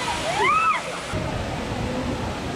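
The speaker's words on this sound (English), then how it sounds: "And here is the waterfall." Reach Falls waterfall in Jamaica, a steady broadband rush of falling water that carries on throughout, with a brief whistling tone near the start.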